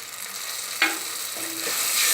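Tamarind extract poured over onions fried until translucent for fenugreek kara kulambu, giving a steady sizzle with one sharp splash and brief stirring scrapes, close and moderately loud.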